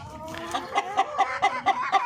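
Darag native chickens from the Philippines cluck close by in a steady, rhythmic run of short calls, several each second.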